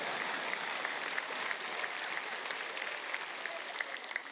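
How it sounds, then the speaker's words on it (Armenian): Audience applause during a sermon, a steady wash of many hands clapping at moderate volume for the whole stretch, with a few sharper individual claps standing out. "Մեկը ծափահարում է։"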